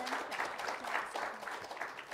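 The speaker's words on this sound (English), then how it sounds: "If you don't mind, a round of applause." Applause from a modest audience at a university equine program speaker event, fairly quiet and somewhat distant clapping with a steady texture over the whole stretch.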